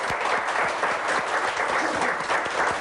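A crowded audience at a TV52 event in Ordu breaks into steady, sustained applause, a dense wash of many hands clapping with no voices heard over it.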